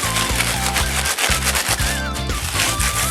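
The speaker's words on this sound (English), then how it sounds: "Get in there and kind of rub it together." Dried moss rubbed and crushed together inside a bag for a wreath base, giving a steady, close crinkling and scratchy rustle that runs continuously with only brief dips.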